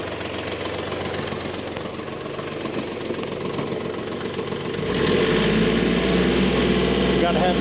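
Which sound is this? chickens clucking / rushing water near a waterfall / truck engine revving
truck engine revving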